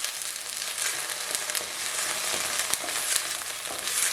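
Ground ginger sautés in hot ghee for homemade ginger candy, producing a dense, close crackling sizzle with small pops and occasional stirring, steady from start to finish.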